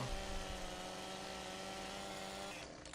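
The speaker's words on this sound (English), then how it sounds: "When in doubt, break out the chainsaw." A chainsaw cuts wood in Farming Simulator 17, a steady droning engine whine that holds at a constant pitch for a few seconds and then drops away at the end.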